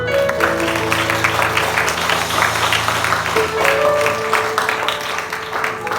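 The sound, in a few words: congregation applauding to glorify God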